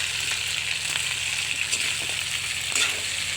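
Chicken feet frying in a pan for adobo, a continuous crackling sizzle of hot oil with small pops, close and steady, with no voices.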